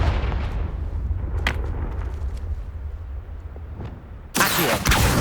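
A Confringo spell explosion from the Hogwarts Legacy video game bursts loudly and close after several seconds of low rumbling ambience and faint scattered pops, with its crackling roar filling the final second.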